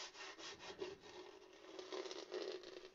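A hand rubs back and forth across a rough, painted wooden board, giving soft, repeated scratchy strokes that are faint and close, with no talking.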